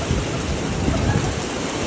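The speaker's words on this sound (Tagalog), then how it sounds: "tapos ang lakas ng ulan" Heavy rain pours steadily in a dense, loud hiss with a low rumble underneath, no voices.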